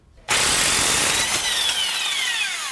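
Impact wrench spinning off a 36 mm axle nut on a 1984-2001 Jeep Cherokee XJ during a wheel bearing job: a sudden loud, continuous buzzing whir that kicks in after a brief quiet moment and holds steady to the end.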